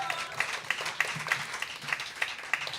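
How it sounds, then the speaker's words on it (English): A youth chorus audience at a small cabaret show applauds, with brisk, evenly spaced claps forming a steady, moderately loud patter throughout. "Let's give Mark a round of applause."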